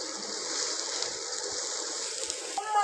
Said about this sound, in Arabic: وهنزل بقى بميه سخنه